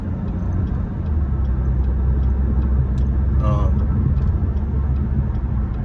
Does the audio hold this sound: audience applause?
no